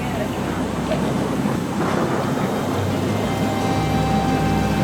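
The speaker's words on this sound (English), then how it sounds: "It's really cold and windy" Strong cold wind roaring and buffeting the microphone in a loud, continuous rumble outdoors at Millaa Millaa in the Atherton Tablelands.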